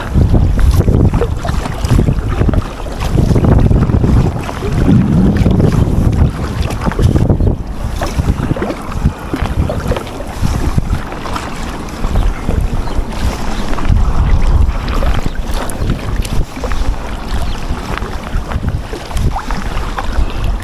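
Strong wind buffets the microphone while kayaking on open water, a loud continuous rumbling roar with gusty surges and faint water sounds, no talking.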